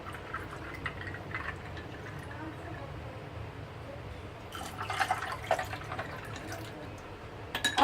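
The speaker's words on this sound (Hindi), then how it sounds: "आइस क्यूब्स डालने के बाद आप इसके अंदर ठंडा ठंडा पानी डालें" Cold water poured from a container into a glass holding mango squash and ice cubes, a soft steady trickle and splash that grows busier toward the end, with ice clinking faintly.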